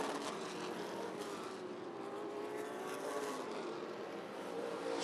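Vintage race cars lapping Rockford Speedway in an Upper Midwest vintage feature, engines droning in a steady, fairly distant roar that swells slightly without a break.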